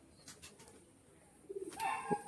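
Pigeons coo faintly at a distance, a short burst of soft calls rising near the end over quiet room tone, with a light flutter of movement.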